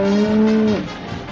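A single loud, close cow moo at a Calgary Stampede rodeo, one drawn-out low call that ends abruptly in a falling tail.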